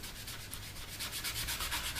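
A soft, steady scrubbing as a moistened cloth is rubbed over a part of a Hasegawa 1/32 P-40 model kit, faint and close with no voices.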